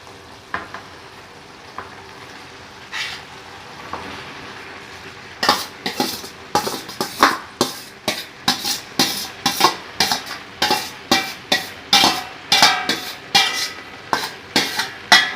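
Pasta stirred into a sizzling pan sauce of onion, tomato, liver and gizzards, with a soft simmer giving way to a steady run of rhythmic scraping and clinking utensil strokes, close and fairly loud.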